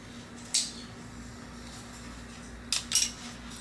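Scissors snip through a jade plant branch with a few sharp, crisp clicks: one early, then a quick cluster of two or three near the end, close by against a quiet room.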